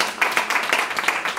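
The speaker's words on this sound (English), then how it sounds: "I think right now we owe that young man a huge round of applause" An audience at a community forum claps in a brief burst of applause, with quick, dense, crisp claps fairly close and steady, and no talking over it.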